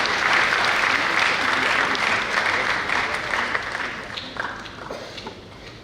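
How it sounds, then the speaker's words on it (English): Sustained audience applause at a symposium and book launch welcomes the chairperson, dense and steady clapping that gradually thins and fades toward the end. "Please, a round of applause"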